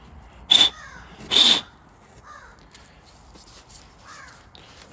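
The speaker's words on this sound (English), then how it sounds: "the crows are busy today." Crows caw outdoors, two loud harsh calls close together, followed by fainter, more distant cawing further off. The setting is a driveway where a 2010 Ram 1500 Hemi 5.7 is being worked on, but only the birds are heard, with no voices.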